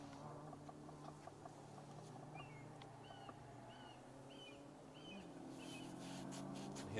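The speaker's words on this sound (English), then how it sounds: "You hear the cry of a red kite." A red kite repeats a thin, high, whistling cry in several short calls, faint and distant over quiet rural background noise at a Welsh rally stage.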